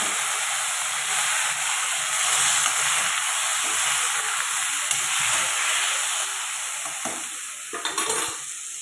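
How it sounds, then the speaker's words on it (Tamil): Dried chilli, curry leaves and green chilli sizzle in a tempering for a sundal of black-eyed peas, a steady bright hiss with stirring scrapes that quiets toward the end. "காஞ்ச மிளகா, கருவேப்பிலை ஆட் பண்ணி பச்சை மிளகா ஆட் பண்ணி நல்லா மிக்ஸ் பண்ணிவிட்டு சுண்டலை தாளித்து எடுத்தால்"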